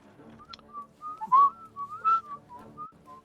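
A clear melodic whistle rises and falls in a short tune, close and alone against a quiet background, in the video game The Thaumaturge.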